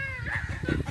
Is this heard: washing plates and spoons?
no